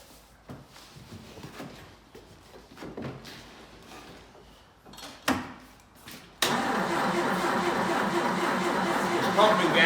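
A 1962 Jeep M170 ambulance, a barn find, cranks with quiet intermittent grinding and short bursts over several seconds, then catches and settles into a loud, steady idle, close by, with voices talking around it.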